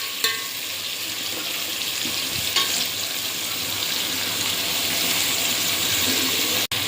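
Onions fry in a pan, a continuous broad sizzling hiss with a few soft stirring knocks, steady and fairly close, no talking.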